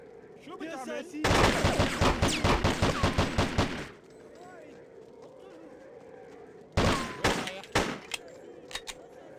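Rapid automatic gunfire from the video game Hitman 2: Silent Assassin comes in a dense burst of about three seconds. After a pause, a shorter burst follows with a few scattered single shots. Faint speech and background game sound run between the bursts.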